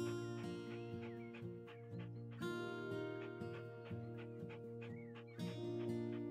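Dogs in the House Flipper video game whimper in short, wavering whines over steady, tonal in-game music, with no speech.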